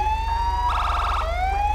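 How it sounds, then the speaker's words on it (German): A police car siren in a GTA role-play video game, briefly flashed as a rising and falling electronic wail over a steady low engine hum, with a short burst of rapid yelp in the middle, loud and close with no talking. "Ich flash jetzt die Sirene."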